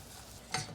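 Flour stirred into hot sizzling beef fat in a pan, a soft continuous fry hiss with a brief scraping stir sweep partway through, close and quiet.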